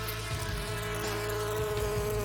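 Steady, loud buzzing of a bee, a continuous droning hum with no talk, running the whole way through.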